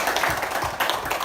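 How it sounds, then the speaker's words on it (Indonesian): Classroom applause, a short burst of hands clapping from a group of pupils, fairly quiet and brief, with no talking over it. "Kasih tepuk tangan."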